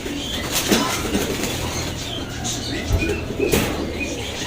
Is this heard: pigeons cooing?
yes